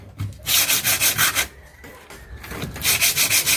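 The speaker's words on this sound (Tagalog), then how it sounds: "Tapos ka naman magliha." Wood being sanded by hand with sandpaper, a raspy rubbing in quick back-and-forth strokes, one burst of about six strokes, a pause, then another run, close and fairly loud.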